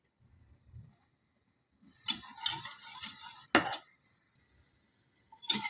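Metal utensil scraping and clinking against a pot of chicken broth soup in a few short bursts, with quiet gaps between, fairly close.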